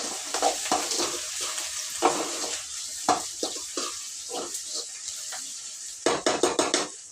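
Onion fries in a pan with a soft sizzle under repeated stirring clinks and scrapes, a quick burst of tapping near the end.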